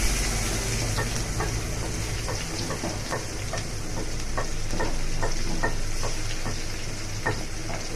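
Dried chillies and chopped tomato sizzle steadily in hot oil as aloo dum with new baby potatoes cooks, a spatula scraping and stirring through the pan at a regular pace, with no voices throughout.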